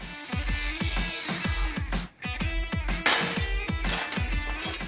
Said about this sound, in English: We'll follow that up with a grinder and a sanding flap disc to smooth out the edges.